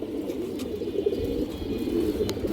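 A black female jack pigeon gives a low, continuous cooing murmur against steady background noise, with a couple of brief faint chirps.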